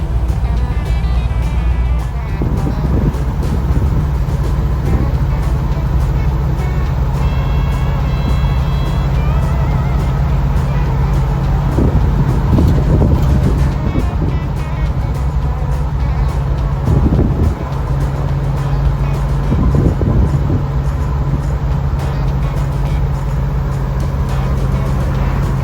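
A 1955 Chevy's engine runs while cruising, a loud, continuous drone with several brief, uneven bursts where it misfires and loads up, heard from inside the car.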